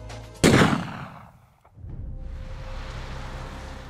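A single sharp, loud gunshot cracks and rings out, decaying over about a second, followed by a low steady rumble of traffic or ambient noise, in a reconstruction of a shooting on a bridge in central Moscow.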